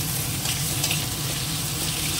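Garlic and ginger paste fries in hot oil with a steady, close sizzle that holds evenly throughout, joined by faint stirring and no voices.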